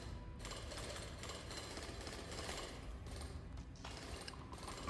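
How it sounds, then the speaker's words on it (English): Continuous grinding drill churning through ice in the game Drill Core on an ice planet, a steady loud mechanical rattle with brief dips, no talking. "I'll drill that out."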